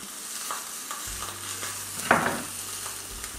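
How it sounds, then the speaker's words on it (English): Short ribs sear in a hot pan, crackling with a steady sizzle and a few louder pops and stirring scrapes, close and fairly quiet, with a low hum underneath. "While that is searing there on the side"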